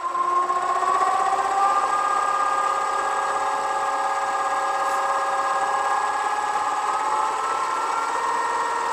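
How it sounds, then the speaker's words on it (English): A wood lathe spins steadily at around 1200 RPM, giving a constant, moderately loud mechanical hum with a steady whine, close by and with no voices over it. "Speed the lathe up a bit. Maybe around 1200 RPM would be good."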